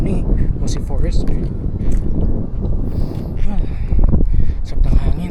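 Strong gusting wind buffets the microphone on a mountain hiking trail during an overnight hike on Mt. Kalawitan, loud and rumbling throughout, with voices talking briefly in the background.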